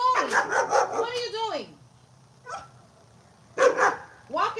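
A dog barks several times in short, loud bursts nearby, first under a man's raised, scolding voice, then alone in separate yaps with pauses between them.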